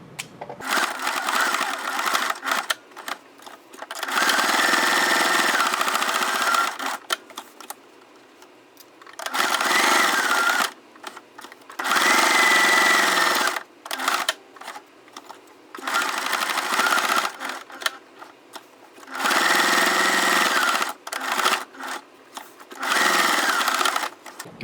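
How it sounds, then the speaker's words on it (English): A sewing machine stitches decorative rows on a potholder in repeated bursts of fast, close whirring, each run lasting a few seconds and separated by short quiet pauses. "So I'll just do 2 rows of stitching on this one"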